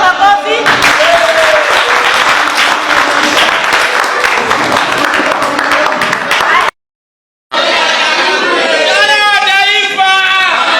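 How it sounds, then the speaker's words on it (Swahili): A political rally crowd in Nairobi claps loudly and steadily for several seconds, a thick wash of hands, then after a brief break a speaker's voice carries on with the crowd audible behind it. "Haya, tupigie makofi."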